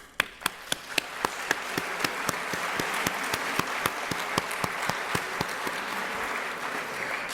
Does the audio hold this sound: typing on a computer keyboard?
no